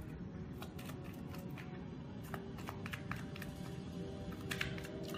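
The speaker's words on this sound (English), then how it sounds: "Let's shuffle up his others." A deck of Fireteam Zero board game cards gets shuffled by hand, a soft continuous riffling with small clicks and taps, quiet and close.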